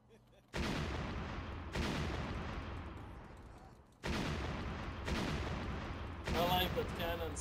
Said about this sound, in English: I like that cannon sound.